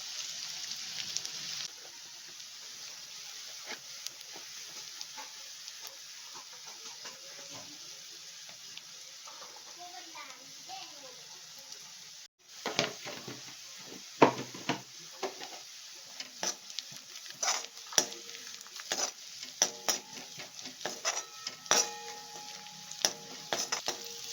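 Chopped onion fries in a pan of oil as tempering for a river-fish curry, with a soft continuous sizzle that turns busier midway as a spoon stirs and scrapes against the pan.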